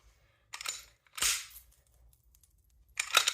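Three sharp metallic clacks of a 9mm pistol slide being racked, spaced apart in a quiet room, each a crisp mechanical snap.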